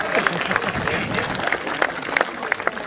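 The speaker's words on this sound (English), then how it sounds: "The crowd goes wild!" An outdoor crowd at the Royal Cornwall Show claps during a duck herding display. The moderate, uneven applause rises and falls, with voices talking over it.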